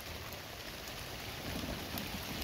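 Rain falls steadily outdoors during a storm beside a Pit Barrel Cooker smoking brisket, a constant soft hiss of drops on surfaces with no talking.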